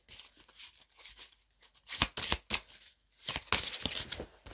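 Oracle cards are shuffled and drawn by hand, soft riffling bursts and flicks of card stock that come in clusters, the loudest near the middle and the end, with no talk.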